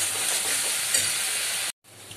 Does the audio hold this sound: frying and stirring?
yes